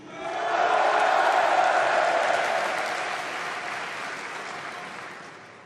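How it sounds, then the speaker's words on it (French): A huge crowd at an Éric Zemmour campaign rally in Villepinte breaks into loud, sustained applause that swells quickly, then slowly fades, with scattered shouts inside the clapping. "c'est une foule immense qui est réunie à Villepinte aujourd'hui pour soutenir notre candidat"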